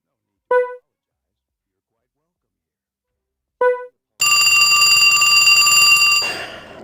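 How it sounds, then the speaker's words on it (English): A telephone rings in the video game Trauma Center: New Blood: two short tones sound, separated by silence, then a loud, sustained electronic ring continues for about two seconds before cutting off. "Should have unplugged the phone."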